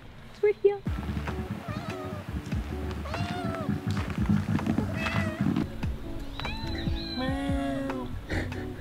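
A cat meows repeatedly in rising and falling cries, close by and fairly loud, over a busy background of people talking and general ambient noise.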